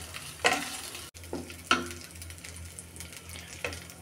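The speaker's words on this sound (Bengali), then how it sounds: "দিয়ে এটা কিছুক্ষণ ভেজে নেব।" Fish fries in hot oil in a pan, a steady close sizzle broken by three stirring scrapes and splashes spaced through the short stretch.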